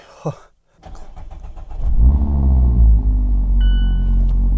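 A 2024-era ND3 Mazda Miata cranks over and settles into a loud, steady low idle in the early morning, with brief human sounds just before the start.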